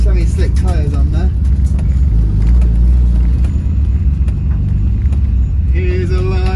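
A Nissan Skyline R33 on semi-slick tyres drives with a loud, steady engine drone and rumble from inside the car. Voices briefly come through over the noise at the start and near the end.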